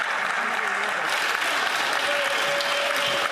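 Members in Parliament clap steadily as a group, a dense, even round of applause in a large chamber with faint voices underneath.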